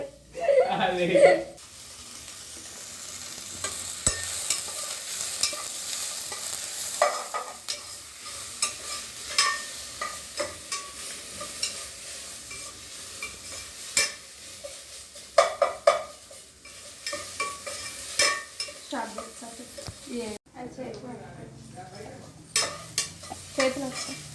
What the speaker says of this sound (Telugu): ఇప్పుడు ఇక్కడ ఆనియన్స్ వేయించుతున్నాం